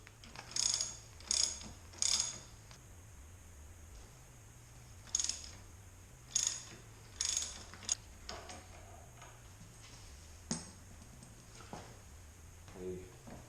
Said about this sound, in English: Pretty much all we got to do is undo these bolts here.